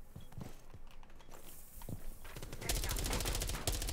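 A gun with heavy recoil fires in Rainbow Six Siege, a loud rapid burst arriving late after scattered footsteps and light thuds, with a player talking over the game sounds.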